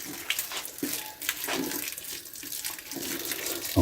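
Tap water runs and splashes into a sink while an antique French copper pot is rinsed, a steady close wash with brief interruptions as the pot shifts under the stream.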